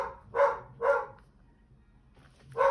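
A dog barks three times, two quick barks close together, then a pause before another, fairly loud and near with no talking.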